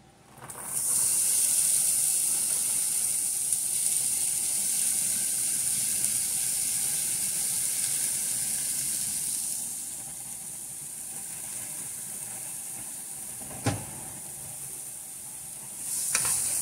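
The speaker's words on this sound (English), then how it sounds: "here I have my pan preheated to medium heat with 2 tablespoons of avocado oil. I'm going to go ahead and add my vegetables" Chopped onion, celery and bell pepper hit a preheated pan with two tablespoons of avocado oil, bursting into a loud, bright sizzle that holds steadily, eases a little midway, then flares again near the end with a brief clatter.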